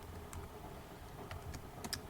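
Brisk typing on a computer keyboard, irregular clicks and key taps over about two seconds, fairly close but low in level against a steady background rumble.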